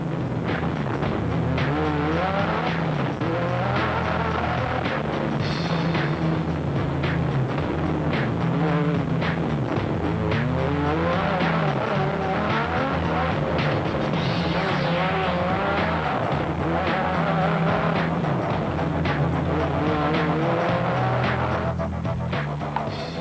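Rally race cars speed hard through a stage of the 2008 Limpopo 400, including a Toyota, with engines roaring continuously and shifting pitch as they pass, loud and close with occasional tire noise.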